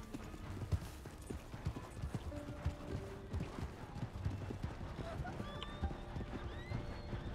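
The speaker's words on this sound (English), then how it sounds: "Get on the horse, not hit the horse." Horse hooves clip-clopping with a whinny in Red Dead Redemption 2, steady hoofbeats and snorting interleaved with game sound effects, a person talking over them.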